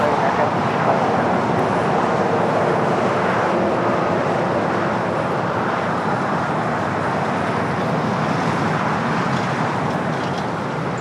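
An American Airlines Boeing 787 Dreamliner taking off from runway 25 right at Los Angeles airport, a loud, continuous jet roar sustained throughout without a break, with a faint voice mixed in underneath.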